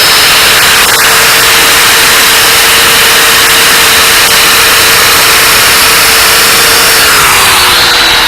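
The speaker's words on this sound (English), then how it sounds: "Line your shears up, and you can see we're just putting it in the nip." Power shears run loud and steady while cutting hardwire fabric, a constant motor whine with a high tonal drone that shifts slightly near the end, close and alone with no speech.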